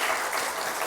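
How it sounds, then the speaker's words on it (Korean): A church congregation applauds, a brief wash of many hands clapping at moderate distance, dense and even. "다시 한 박수 한번 치줄까요?"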